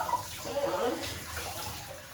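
A handheld shower head sprays water while a dog is washed during pet grooming, a soft, steady hiss of running water that swells and eases, fairly quiet and close.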